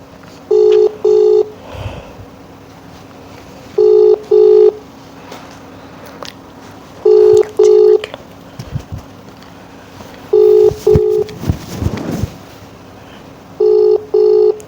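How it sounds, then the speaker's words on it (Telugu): An outgoing phone call rings unanswered, heard as a loud ringback tone in repeated double pulses about every three seconds, with quieter room noises and faint movement between the rings. "రింగ్ అవుతుంది"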